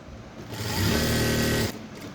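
A sewing machine stitches a blouse seam in one short, close run, a brief steady whir that starts and stops within a couple of seconds.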